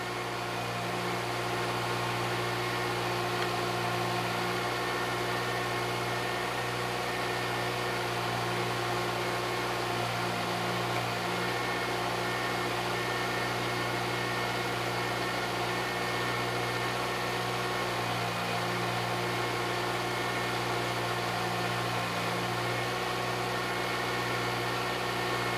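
A car engine running rich during a variable valve timing demonstration idles steadily with a constant hum and faint whine, quiet and unchanging throughout with no speech.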